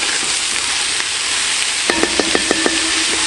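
Mushrooms sizzle in a South African cast-iron potjie over charcoal, a loud, close, continuous frying hiss broken near the end by a run of sharp metallic taps as the pot is stirred.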